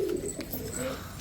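Tumbler pigeons coo softly and steadily at close range in a loft, the low murmuring calls continuous with no speech.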